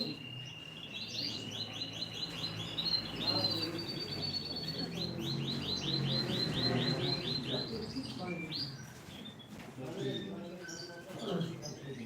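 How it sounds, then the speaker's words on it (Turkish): Canaries sing in bright, rapid trills and chirps that run on continuously at a bird auction, while people talk beneath the birdsong. "Beyler ikisi de ötüyor kuşların."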